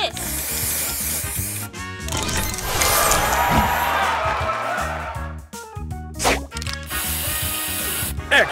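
A spray booster effect from the mobile puzzle game Match Masters, a loud sustained hissing spray with crashing bursts and bright chimes, broken by short gaps.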